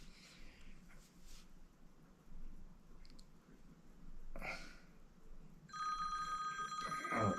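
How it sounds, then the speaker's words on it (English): A phone call notification rings near the end while the phone sits on Do Not Disturb, a bright tonal ring rising over quiet room noise and a TV playing low. "I got a phone call, and I have it on Do Not Disturb."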